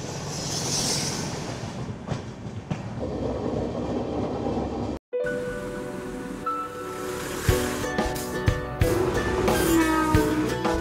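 A night passenger train hauled by a WDG4 diesel locomotive runs on the rails between Shalimar and Sambalpur, with a continuous rumbling roar and rattling clatter. The sound breaks off briefly midway, then returns with a harsher metallic rattle.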